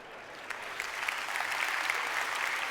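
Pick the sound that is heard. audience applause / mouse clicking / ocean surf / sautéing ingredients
audience applause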